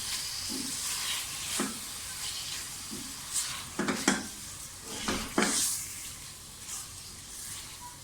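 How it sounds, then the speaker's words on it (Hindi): Chicken and spices fry in a pan for a chicken vegetable spaghetti, a steady sizzle broken by several distinct stirring scrapes and clatters of the spoon against the pan. "चिकन के साथ इसको फ्राई कर लें।"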